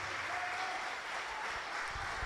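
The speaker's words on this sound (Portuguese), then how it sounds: "pode aplaudir" A church congregation applauds during a sermon, sustained dense clapping from many hands in a large room, steady and fairly loud throughout.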